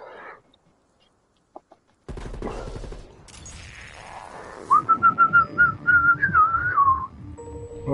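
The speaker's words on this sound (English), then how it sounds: "Woke my dog up by whistling." A person whistles a sustained, wavering tune close to the mic over game audio from a zombies round, with gunfire-like bursts and a dog getting excited nearby.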